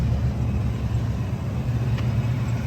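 A 1998 Ford Mustang GT with a 5.0L V8 and manual transmission runs steadily at idle, a loud close low rumble without pauses and with no one talking.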